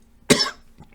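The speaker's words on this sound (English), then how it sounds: "Bit of a coughing fit." A man coughs once, a single sharp close burst with a brief rough tail, fairly loud against an otherwise quiet room.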